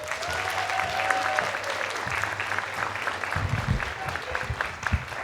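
Continuous applause from a crowd at a juvenile justice reform presentation, moderately loud, with a voice briefly heard over the clapping.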